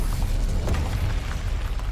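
A Bombarda blasting spell goes off in the video game Hogwarts Legacy, a loud, sustained rumbling boom with a burst of crackling debris, without speech.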